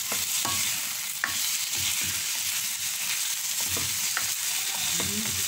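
Pork and beans pochero is stirred in a pot over the heat, a steady close sizzle broken by repeated scraping strokes of the spoon.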